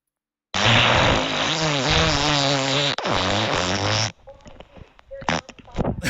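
Farting noise from a recorder during a comedy talk show, one long loud buzzing blast lasting several seconds with a short break, followed by quieter scattered clicks and a couple of short bursts.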